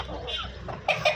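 Aseel hens fight at close range, giving agitated clucks and squawks in short bursts while a person talks over them.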